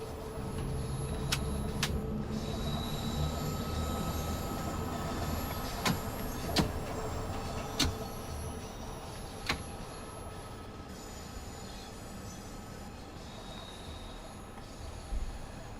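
Train running on rails in Train Sim World 5 on London and Switzerland routes, a steady rolling rumble with wheel squeal and periodic clacks from the track joints, continuous and fairly close, with no talking.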